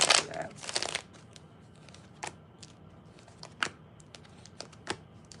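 Tarot cards are shuffled in a quick riffling burst at the start, followed by scattered soft card snaps and taps as cards are drawn and laid down, close and fairly quiet.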